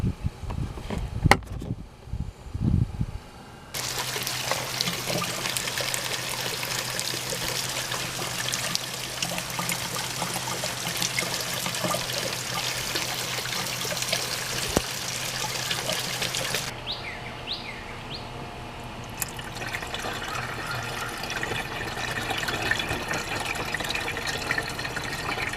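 Fluid being poured into a Tesla Model Y during a 10,000-mile maintenance service, a steady trickling pour that runs continuously for about thirteen seconds, then a quieter liquid filling that continues to the end, with no talking.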